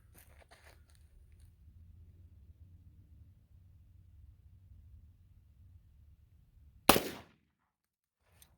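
A Glock 33 pistol fires a single .357 SIG Speer Gold Dot round outdoors, one loud sharp report with a brief decay after several seconds of low background rumble.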